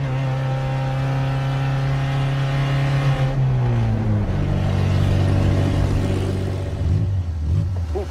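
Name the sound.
car engine revving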